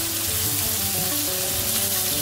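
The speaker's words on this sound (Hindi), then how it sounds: "देखिए हमारा ये गोल्डन ब्राउन होने तक प्याज को हम अच्छे से पका लेंगे।" Onions cooking in a pan until golden brown for a drumstick-leaf greens dish, a steady close sizzle and crackle of frying that runs continuously without any voice.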